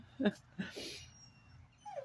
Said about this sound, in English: The puppy wants to see you.